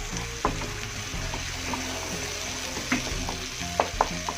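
Spice paste for Acehnese beef bone soup sizzles steadily as it is sautéed in a pan, with a continuous close frying hiss and a few soft clicks from stirring.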